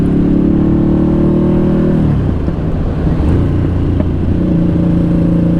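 A Harley-Davidson Sportster motorcycle engine runs steadily nearby, its pitch dropping and then climbing again as the throttle is blipped, a loud continuous drone.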